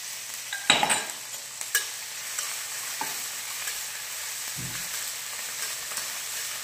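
Crushed ginger and green chili hit hot oil in a kitchen pan, giving a steady close sizzle with a few sharp stirring scrapes near the start.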